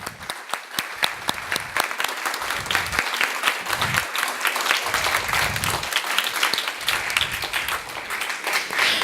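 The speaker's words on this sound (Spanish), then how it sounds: "¿Les podemos dar un aplauso, por favor?" An audience at a museum talk in Medellín applauds contest winners, loud, dense clapping with sharp individual claps standing out near the start, continuing strongly throughout.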